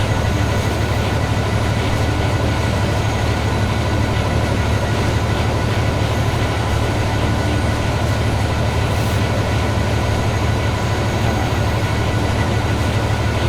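A freight train rolls past at close range, its wagons making a loud, steady rumble and clatter with no break.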